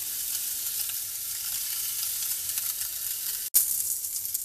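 Picanha strips sizzle fat-side down over charcoal embers, a steady crackling hiss with brief pops, close and continuous, with one short break and no talking.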